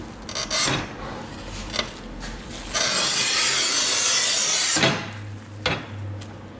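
A manual tile cutter scoring a strip of porcelain stoneware, with clunks and rubbing from the handle, then a loud sustained scraping pass of a few seconds, followed by more mechanical knocks.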